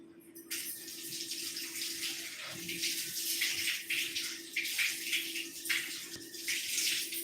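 A constant hiss and sizzle of black pepper, cumin seeds and curry leaves crackling in hot oil, with bursts of spattering rising and falling throughout, close by.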